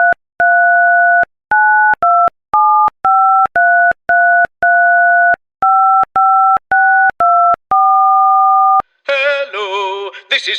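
A telephone line plays a run of tones while a call is placed: steady two-part beeps in short bursts with gaps between, fairly loud, followed by a voice speaking at the end.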